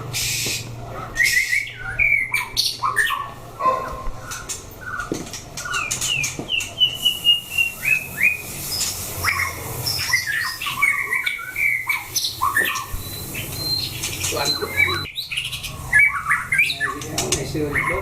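A shama bird sings a long, lively run of clear whistles, chirps and sharp squawks, close and loud, with rapid varied phrases that repeat almost without pause over a faint background hum.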